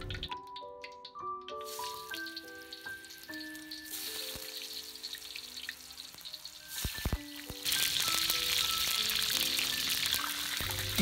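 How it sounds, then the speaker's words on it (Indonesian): Cut tofu cubes fry in hot cooking oil, giving a steady crackling sizzle that turns louder and busier partway through, with faint tonal sounds layered over the kitchen background. "Langsung goreng di dalam minyak goreng panas."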